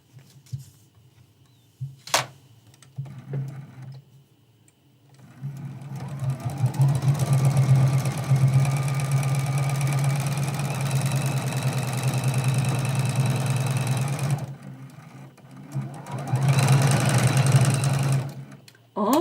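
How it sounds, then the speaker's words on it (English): A sewing machine runs steadily and stitches a fabric seam for a foundation paper-pieced quilt trivet. The motor hums for about ten seconds, stops briefly, then starts again, with quiet handling sounds before it begins. "And we're sewing that seam."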